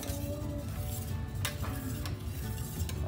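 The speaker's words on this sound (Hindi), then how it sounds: "और विनेगर डाल के चलाते रहिए।" Boiled milk being stirred in a pot while vinegar is added to make paneer from milk powder, a steady scraping and clinking of a spoon against the pan with a faint sizzle, continuous and fairly close.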